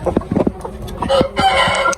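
Desi hens cluck and a Sindhi rooster calls from a rooftop poultry coop in Faisalabad, a run of short clucks followed by a longer strained crowing phrase, close and fairly loud.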